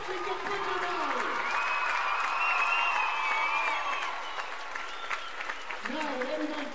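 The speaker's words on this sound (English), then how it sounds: "One more round of applause for your Dustin to Bridger Valley." Crowd applause fills a basketball game gym, a steady sustained wash of clapping with some cheering, while a voice talks over it near the end.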